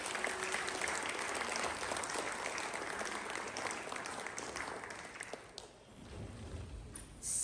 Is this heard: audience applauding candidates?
yes